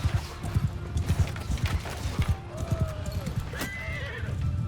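Rapid hoofbeats clatter across the ground while horses whinny and neigh with rising cries, amid a busy, battle-like din of horse archers and horsemen in Mount & Blade II: Bannerlord.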